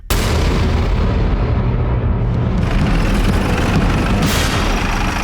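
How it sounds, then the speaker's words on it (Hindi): A loud, roaring blast rumbles on without pause, a dense wall of noise that swells again near the end. "बड़ी जोर का धमाका हुआ था"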